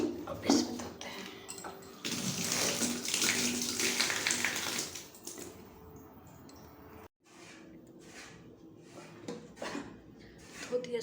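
A mixer grinder jar is washed under a running bathroom tap, with bursts of splashing and gushing water that stop abruptly midway before quieter rinsing clatter resumes.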